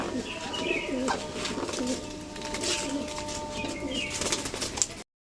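A small young pigeon being prepared for tournament flying coos softly several times in a quiet indoor setting, with low repeated coo phrases and faint rustling in between.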